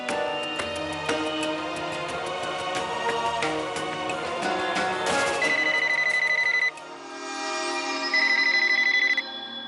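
A telephone rings in a Hindi TV drama scene, sounding in two trilling bursts near the end. It rises over a busy, dense backdrop of music.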